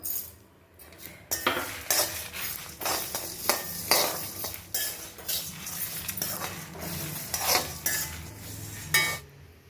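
Urad dal and spices dry roasted without oil in a pan, stirred steadily: repeated close scraping and rattling strokes in an uneven rhythm, with no voices.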